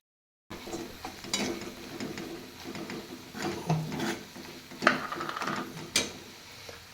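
A ground chana dal and besan mixture is sautéed in a pan, a soft sizzle under irregular spoon scrapes and taps, close and moderate in level.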